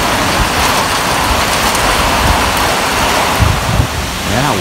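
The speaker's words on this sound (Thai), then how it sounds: "หนักด้วยลมแรงด้วยครับทั้งลมทั้งฝนเลยครับ" Heavy rain falls with strong wind on an evening with low-hanging clouds, a dense steady wash of noise with gusty buffeting throughout, loud and close, with no voices.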